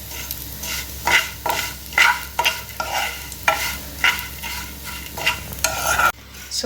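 Vermicelli roasting in Amul ghee in a pan, stirred with a utensil in steady repeated scrapes over a soft continuous sizzle, close and fairly loud, until a sudden drop near the end.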